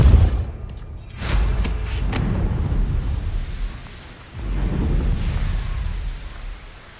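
Depulso force spell blasts in Hogwarts Legacy, two heavy booming bursts several seconds apart, each trailing into a rumbling wash of noise, with no talking.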